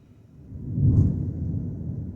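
Low thunder rumbles in the background, swelling to a peak around the middle and then rolling on as a steady, distant wash with no other sounds over it.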